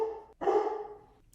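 Pet dog indoors giving a couple of short barks, a brief first yip followed by one louder, fuller bark, fairly close and alone with no talking.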